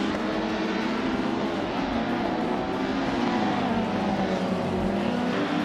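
WTCC touring cars, among them a Peugeot and a Seat Leon, racing on a tight-cornered circuit, a steady loud roar of several engines blending together with a shifting whine and no clear breaks.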